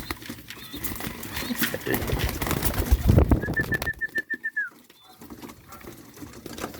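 Domestic pigeons in a Filipino fancier's loft coo while they wait to be fed. Low throaty calls and soft flutters come up close, with a thin whistle-like note partway through.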